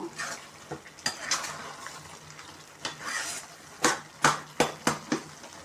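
Tomato chutney stirred in a pan over a gas flame at medium heat, a faint low sizzle with a run of sharp spoon knocks and scrapes against the pan that grow more frequent toward the end.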